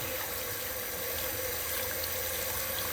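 Hot tap water runs steadily over Nama J2 juicer parts being rinsed in a sink, a constant close splashing hiss with no pauses.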